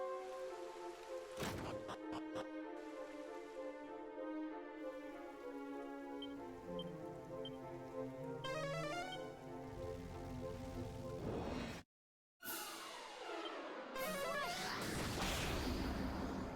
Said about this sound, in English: It looks like it's like constantly raining.